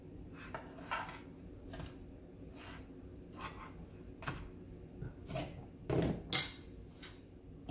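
Biscuits being turned by hand in a stovetop pan, with light clinks and scrapes against the pan and the occasional louder knock, scattered irregularly over several seconds.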